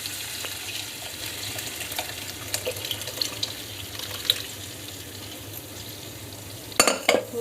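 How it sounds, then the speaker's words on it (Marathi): Cooked ghevda bean dal being poured into a cooking pot, soft wet pouring and light sizzling over a low background, ending in a brief louder splash and clatter. "आता ही डाळ ओतून घ्यायची।"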